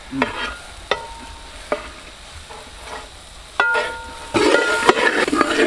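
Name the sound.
chilli powder masala sautéed for beef head roast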